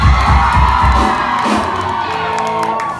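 Concert crowd at a live pop show cheering and whooping loudly, a dense roar of shouts and screams that stays steady throughout, strongest in the first second.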